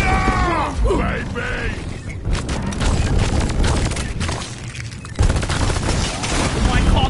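Rapid weapon fire and mechanical clatter from the Deep Rock Galactic video game, bursts of shooting running throughout with game voices and effects layered on top.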